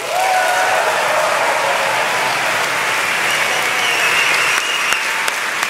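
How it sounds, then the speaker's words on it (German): Loud, sustained audience applause in a hall at a science slam, continuous and full from start to finish, with a few sharper claps standing out near the end and no talking. "Wir begrüßen auch ihn mit einem zehn punkt applaus auf dieser Bühne"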